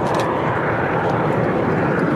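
A de Havilland Vampire T-11 jet trainer passes at an airshow, giving off a loud, steady broadband jet roar that fills the whole stretch without a break.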